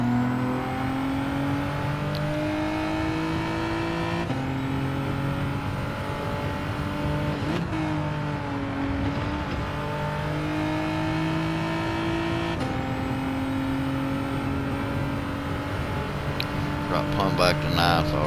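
A Group 4 race car in a racing video game at WeatherTech Raceway Laguna Seca drones loudly with engine revs that rise, drop sharply under hard braking around the middle, then climb again as it accelerates, with a voice talking over it.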